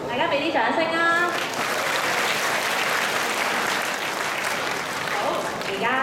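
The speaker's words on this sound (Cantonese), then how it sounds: "大家俾啲掌聲啊！" Audience applause at a school Christmas party, a dense sustained burst of clapping from a large crowd, with a voice over a loudspeaker at the start and end.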